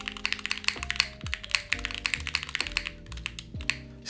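Rapid typing on a freshly built Neo70 mechanical keyboard with an O-ring mount, close and clear, a dense run of clacky keystrokes with occasional louder taps and no talking.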